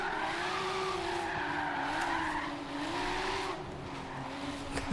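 A Rocket Bunny Boss V2 Nissan Silvia S-body slides sideways through a tunnel in Forza Horizon 3, engine droning steadily while tires squeal continuously, echoing and sustained for several seconds with no talking.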